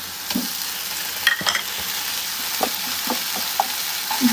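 Ginger, garlic and cumin paste frying with onion paste in a pan makes a continuous soft sizzle, broken by occasional scraping and tapping as it is stirred. The sounds are close and moderately quiet, with no voices.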